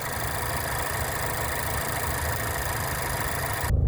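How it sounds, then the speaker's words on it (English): A 2020 Mazda 3 engine idling, recorded close at the exhaust: a steady low rumble with a constant, even tone throughout and a brief shift right at the end, with no voices. "Shot of the exhaust with the motor running."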